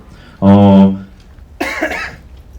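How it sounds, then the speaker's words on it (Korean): A person gives a short voiced hack, a brief pause, then a second rougher cough-like burst, close and fairly loud. "제가 좀 기침을 조금씩, 이게 뭐 나쁜 건 아니에요."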